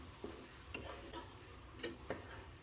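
A spoon scrapes and stirs a shallot and garlic spice paste frying in a wok, with a soft steady sizzle and a few sharp, irregular scraping knocks, quiet and close.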